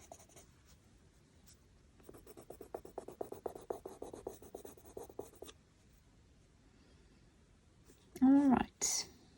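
A colored pencil burnishes shadows onto paper under medium pressure, making soft, close scratchy strokes that come in a quick rhythmic burst of rubbing, with quiet pauses around it and a brief louder rustle near the end.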